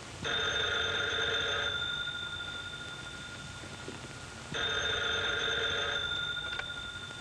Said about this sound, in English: Miss Lane can get the phone